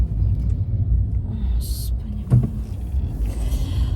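A car drives past close by, a low rumbling engine with a sharp thump and hiss midway, fairly loud and steady over about four seconds.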